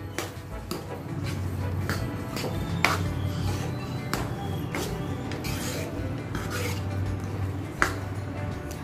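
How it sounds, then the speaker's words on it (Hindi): Jaggery is stirred into lapsi made with desi ghee in a pan, giving repeated close scraping and rubbing strokes of a spoon against the metal in an uneven rhythm, with no talking. "गुड़ को अच्छा मिक्स कर लेंगे।"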